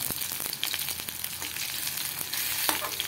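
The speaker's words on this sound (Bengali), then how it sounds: "পেঁয়াজটাকে একটুখানি ভেজে নেবো" Chopped onions frying in a pan for a Bengali lentil and pumpkin dish, a continuous close sizzle with scattered sharp crackles and occasional stirring scrapes.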